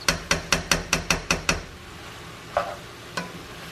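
Shrimp, sausage and cabbage in a skillet, a run of about eight sharp, evenly spaced knocks of a utensil against the pan, then two lone taps over a low sizzle.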